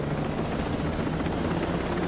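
In the video game Ghost Recon Breakpoint, a helicopter engine drones with a dense, steady whirring rumble that fills the whole stretch, loud and continuous, with no talking.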